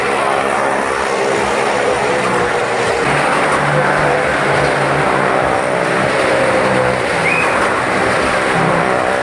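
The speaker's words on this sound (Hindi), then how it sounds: "और ये शुरू हो चुका है मौत का कुआं, जिसमें अभी एक लोग चला रहे हैं।" Motorbikes roar continuously around the wall of a well-of-death show at a crowded night fair, a loud sustained engine drone with steady rumble throughout.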